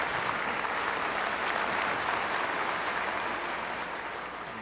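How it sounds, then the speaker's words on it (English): A festival audience applauds a guest with sustained, dense clapping from a large crowd that eases slightly near the end. "So let us welcome our beloved true mother with a heartfelt round of applause."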